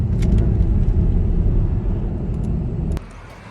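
Jaguar XKR X150 driving along an open Peak District road, a loud, steady low engine and road rumble that drops away abruptly near the end, with no talking.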